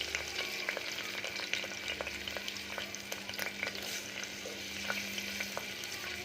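Onions, green chillies and curry leaves sizzle and crackle in hot oil for a mutton paya masala, a steady close frying hiss with scattered sharp pops and no voices.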